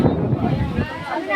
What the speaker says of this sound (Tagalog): hangin sobra.